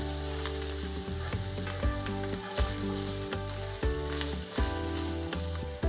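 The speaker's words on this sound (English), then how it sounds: "Cook for an additional 30 seconds while mixing." Shrimp sizzle in a hot pan while being stirred, a steady loud frying hiss over a rhythmic pulsing pattern, continuous for about six seconds with no voices.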